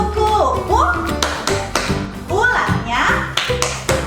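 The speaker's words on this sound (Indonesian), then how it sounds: "Yuk kita sama-sama tepuk kupu-kupu." Hands clap steadily through a children's butterfly clapping song, with the taps mixed under continuous sung voices.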